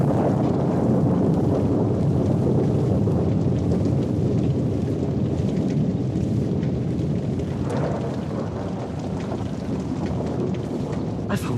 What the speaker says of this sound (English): The lightning bolt had hit so close as to knock me over with its impact.